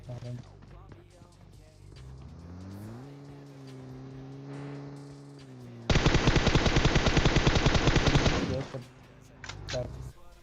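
A rapid burst of automatic gunfire in PUBG Mobile lasting a few seconds, loud over a humming engine and faint talk.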